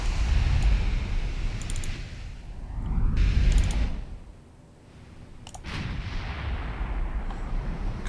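Naval gunfire from warships in the Ultimate Admiral Dreadnoughts game: heavy artillery booms rumble in repeated loud waves, broken by a short quieter gap and crisp high cracks, with no voices.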